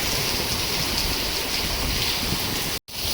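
Heavy afternoon downpour in a village, a steady dense hiss of rain falling without pause and cutting out abruptly near the end.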